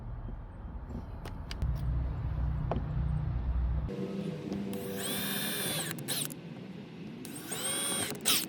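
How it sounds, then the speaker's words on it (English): A cordless power drill bores pilot holes while a power line is run to a backyard shed. Short whirring bursts ramp up and stop, sounding close by, with no one talking over them. "Pre-drill"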